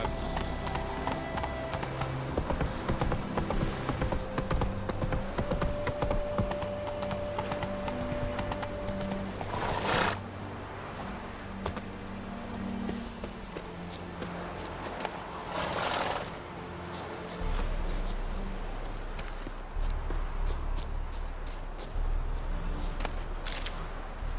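Hooves of Roach, Geralt's horse in The Witcher 3, clip-clop at a steady walking pace throughout, joined by occasional snorts and game ambience, with a few brief louder bursts partway through.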